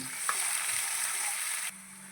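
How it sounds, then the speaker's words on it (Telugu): Sliced onion and split green chillies fry in a pan with a bright, even sizzle, with a few faint knocks beneath it, and the sound suddenly drops to a quieter hiss near the end. "సన్నగా తరిగిన ఒక ఉల్లిపాయ అండి అలాగే పచ్చిమిరపకాయ చీలిక వేయించేసుకుందాం"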